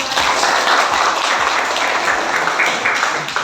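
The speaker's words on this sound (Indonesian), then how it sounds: "Ya, tepuk tangan dulu." A classroom group applauds during a mathematics lesson, a steady, close, dense wash of many hands clapping at once that continues throughout.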